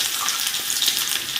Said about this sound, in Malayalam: കടുക് പൊട്ടി തുടങ്ങി, ഉള്ളി ഇടുവാണേ.